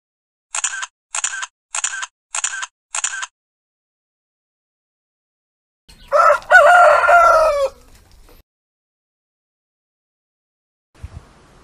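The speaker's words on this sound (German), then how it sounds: "jetzt habe ich schon wieder den Hahn vergessen" A rooster crows once, loud and close, preceded by five sharp evenly spaced camera-like clicks, with silence before and after and a faint thump near the end.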